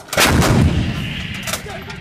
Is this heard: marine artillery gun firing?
yes